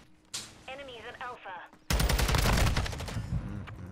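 Automatic-weapon gunfire in Call of Duty Modern Warfare 2 ranked multiplayer: a short electronic tone, then a loud sustained burst of rapid shots lasting about two seconds, close and dominant.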